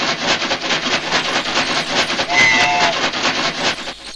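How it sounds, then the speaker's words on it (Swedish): A toy-like train from a Moomin hide-and-seek video game rolls along steadily with a dense, rhythmic clatter of wheels on rails, joined by a brief whistle toot near the middle, loud and continuous without talk. "Vilken burke som blir till ett tåg"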